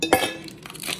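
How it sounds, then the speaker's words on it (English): Four ice cubes drop into a canister with a few quick, close glassy clinks, one sharp knock near the start followed by lighter rattles and taps. "I'm just putting 4 ice cubes in"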